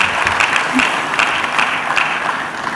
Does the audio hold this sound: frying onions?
no